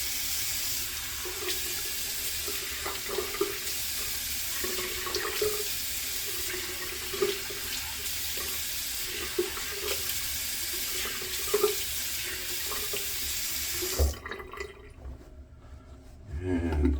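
Tap water runs steadily into a sink while a razor blade is rinsed under it, a close, continuous splashing stream with small knocks, stopping abruptly near the end and leaving near quiet.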